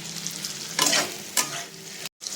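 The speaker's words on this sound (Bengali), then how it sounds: "এই যে পেঁয়াজটা ঠিক করে ভেজে নিই।" Onions frying in a pan for biryani, a soft steady sizzle broken by a few sharp scraping stirs close by, with no voices.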